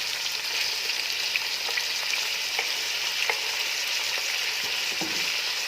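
Chopped tomatoes fry with golden brown onions in a pan, giving a steady bright sizzle with scattered crackles and light stirring taps, no voices.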